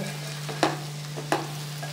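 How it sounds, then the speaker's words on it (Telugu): Okra frying in a pan with garlic and onions, a low sizzle over a steady hum, broken by two sharp stirring scrapes about half a second apart. "చూడండి ఉల్లిపాయలు లేట్గా వేసినా కరెక్ట్గా బాగా ఫ్రై."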